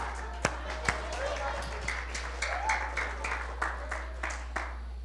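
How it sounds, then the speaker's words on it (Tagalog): A few scattered claps from one person in a church audience, sharp and fairly near, spaced irregularly over a low background hum with a faint murmur of voices. "Ay, may pumalakpak."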